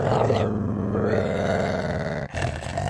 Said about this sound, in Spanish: Es otro perro.